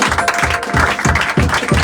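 Congregation applause at a Sunday church service welcoming the pastor to deliver the afternoon sermon, loud rhythmic clapping in steady beats with a full, close sound.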